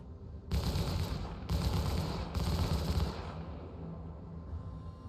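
Twin size 3 Panther repeater turret guns on a Drake Cutlass Blue ship in Star Citizen, heard as three sustained bursts of rapid automatic fire, each about a second long with short gaps between them, loud and close.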